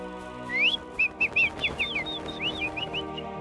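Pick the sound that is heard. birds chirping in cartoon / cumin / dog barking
birds chirping in cartoon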